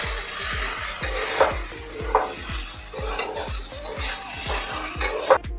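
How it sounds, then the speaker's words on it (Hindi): A spoon stirs turmeric powder in a pan for a traditional mango murabba, making steady, rhythmic scraping strokes close up with a soft sizzle behind and no talking. "यहीं पे डालेंगे हल्दी पाउडर, इसको भी हम चला लेते हैं।"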